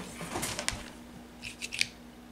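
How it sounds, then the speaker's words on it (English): Hoop steel being cut with a snipping tool indoors in a living room, a handful of sharp metallic snips and crunches in two short bursts, fairly close over a steady low hum. "I have spent the last, I don't even know how long, cutting hoop steel"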